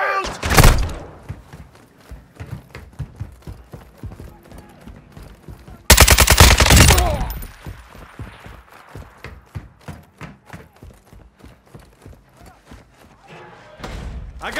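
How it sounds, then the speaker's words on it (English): Gunfire in the Call of Duty DMZ video game: loud bursts of automatic fire and single shots, with a heavy sustained burst midway, mixed with thuds and game radio voices announcing squad status. "You are taking effective fire."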